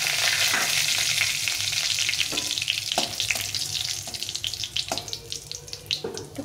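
Whole spices (cinnamon, cardamom and cumin) tempering in hot oil, a loud bright sizzle and crackle that gradually eases into softer hissing broken by intermittent stirring scrapes, close up with no voices.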